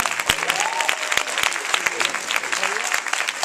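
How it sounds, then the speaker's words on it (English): An audience at a training event applauds the trainers with a dense, lively round of clapping mixed with crowd noise and cheering voices, sustained throughout. "let's give another round of applause for all our amazing trainers"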